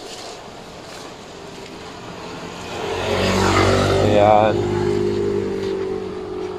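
A Motorstar Easyride 150CL motorcycle runs nearby, its engine rising into a louder revving drone partway through, while someone talks over it.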